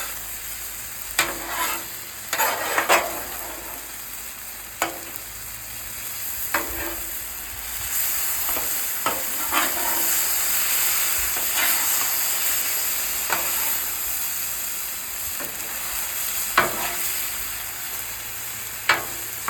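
Chicken and noodles sizzle steadily on a hot Blackstone griddle, a continuous loud frying hiss broken by repeated sharp scrapes and taps of a spatula, with no talking.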